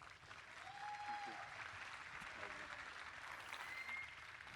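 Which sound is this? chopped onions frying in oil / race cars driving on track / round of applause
round of applause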